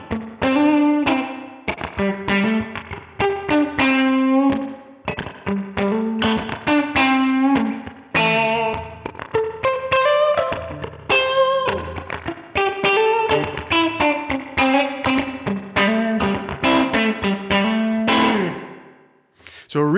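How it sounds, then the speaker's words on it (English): An electric guitar runs through the spring reverb on a Line 6 POD Go with firmware 1.30. Clear picked notes and chords ring out with a splashy reverb tail for about twenty seconds, played alone and loud. "But a much nicer spring reverb effect than we've ever had in the PodGo up until now."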